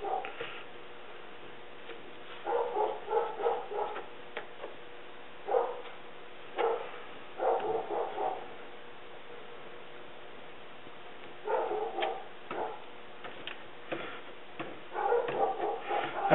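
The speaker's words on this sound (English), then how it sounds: "out there barking at something" A dog barks outdoors at a distance, faint clusters of short barks and yips coming in irregular bursts with quiet gaps between them.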